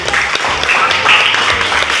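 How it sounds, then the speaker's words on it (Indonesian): Students in a middle school social studies classroom clap together in a continuous, busy patter that stays constant for the whole stretch, fairly loud and close, with some voices faintly mixed in. "Tepuk tangan lagi."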